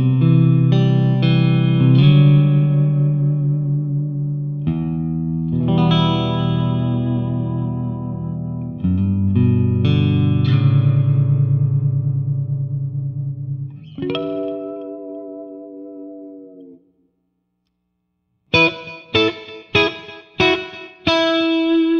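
A clean electric guitar through a JMP-1 preamp plays chords and picked notes with a shimmering, chorused tone, then a brief pause before bright, staccato strums.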